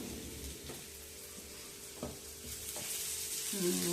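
Curry leaves and other ingredients fry in an oiled pan with a soft, continuous sizzle, broken by a few scraping stirs and taps. The sizzling builds louder toward the end, and no one speaks.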